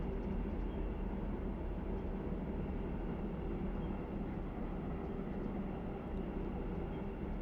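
A train rumbles along steadily in the simulator game Run 8 Train Simulator III, a faint, continuous low drone of engine and rolling wheels without breaks or talking.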